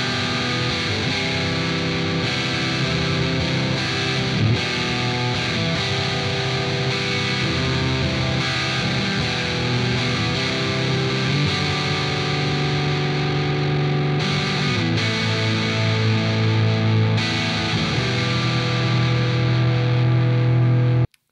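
Danelectro Cool Cat fuzz pedal on a guitar with its humbucker split to a single coil, a continuous loud stretch of fuzzy distorted chords and riffs playing steadily for about twenty seconds.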